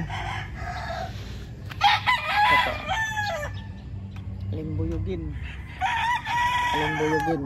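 White Kelso gamecocks and hens in a backyard yard crow repeatedly in loud, drawn-out calls between softer clucking, with someone speaking briefly among them.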